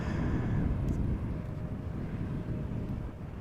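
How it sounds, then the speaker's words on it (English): A Boeing Dreamliner airliner passes by at Amsterdam Schiphol Airport in gusty crosswind, a low broad roar heard through heavy wind buffeting on the microphone, strongest at first and easing slightly. "Another Dreamliner just passing by."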